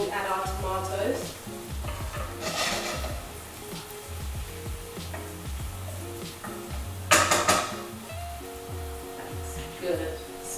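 Food browning in a hot pan for homemade fish balls, sizzling and frying steadily with occasional stirring scrapes and utensil clinks throughout, plus a voice and some pan handling.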